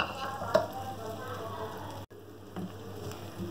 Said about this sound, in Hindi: पैन में ऑयल डाल देंगे, प्याज डाल देंगे और उसको फ्राई करेंगे।